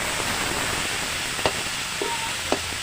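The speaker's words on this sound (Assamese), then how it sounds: "এয়া বিলাহীখিনি ভাজি নোযোৱালৈকে মই এনেকৈ ভাজি থাকিম।" Tomatoes frying with turmeric in a pan, a steady soft sizzle and hiss with a few light clinks of stirring.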